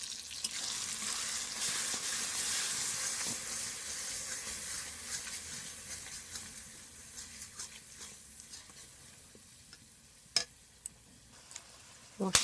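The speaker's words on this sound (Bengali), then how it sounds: "দিয়ে ভালোভাবে কষিয়ে নেব।" Kashmiri chilli powder, turmeric, meat masala, cumin and coriander powder frying in a pan for chicken ghugni, a soft continuous sizzle that fades gradually, ending in a few sharp scrapes and knocks of stirring, quiet and close.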